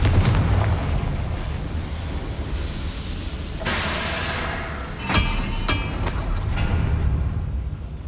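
A Confringo fire spell going off in the video game Hogwarts Legacy: sharp, loud blasts with bright crackling bursts ringing out over a steady rumbling game soundscape, several impacts landing close together in the second half.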